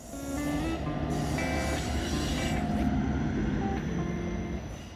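Trains rumble steadily through a station on the Copenhagen–Berlin–Prague route, with metallic wheel squeals and tonal whines rising over a continuous loud drone.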